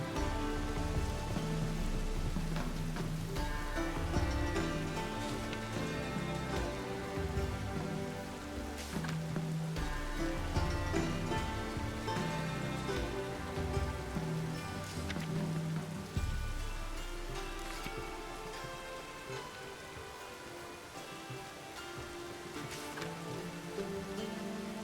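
Rain falls steadily across a scene in The Witcher 3: Wild Hunt, a continuous patter of drops on surfaces mixed with a layered ambient music bed, with no voices.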